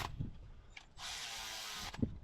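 A ratchet snugs down cylinder head bolts on a 24-valve Cummins diesel engine, making a faint, short burst of fast clicking in a quiet shop.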